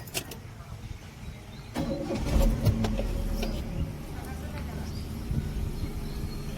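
A car's engine starts and the vehicle pulls away, a steady low engine rumble rising and continuing close by, with a few sharp clicks and thumps near the start.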